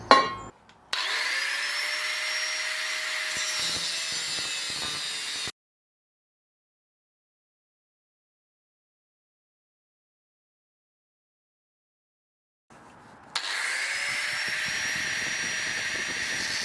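Bandsaw cutting away excess material from the sides of a handmade workpiece, a steady loud whine in two long bursts separated by several seconds of silence, with no talk.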